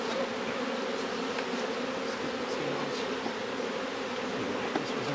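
Honey bees swarm during a honey harvest, their buzzing a continuous close drone with a few individual bees passing near, steady and moderately loud, with no one speaking.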